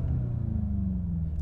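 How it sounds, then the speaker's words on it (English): Engine of a 2019 Volkswagen Jetta GLI revving, a close, deep rumbling rise and fall heard from inside the car with no talk. "so if I were to rev this up,"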